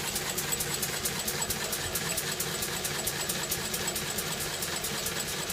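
A 1951 Lister D diesel engine runs steadily, a rapid, even knocking and chuffing beat with a regular mechanical ticking, close and moderately loud, with no voices.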